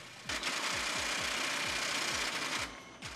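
A high-speed line printer rated at 2,000 lines a minute prints orders with a fast, even train of mechanical pulses over a steady hum, then winds down near the end.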